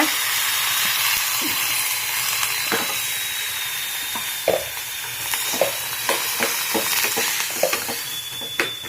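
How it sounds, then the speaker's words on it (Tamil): Onion and tomato frying in a pan for tomato chutney, a steady sizzling hiss with intermittent stirring scrapes and clicks that grow more frequent toward the end. "இப்போ இந்த வாணாலில் வெங்காயம், தக்காளி போட்டு இதை வணக்கிக்கோங்க."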